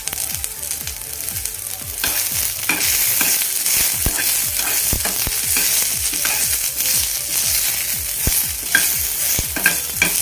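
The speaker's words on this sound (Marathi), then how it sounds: "आता ह्या तेलावरच आपण हा कांदा भाजून घेणार आहोत" Chopped onion frying in hot oil in a pan, a loud, steady sizzle with repeated scraping stirs throughout and no talking.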